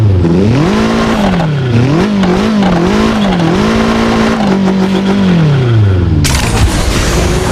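A 4-liter twin-turbo V8 SUV in a racing video game revs loudly and continuously, its pitch swooping up and down through repeated throttle blips before a harsh burst at the end.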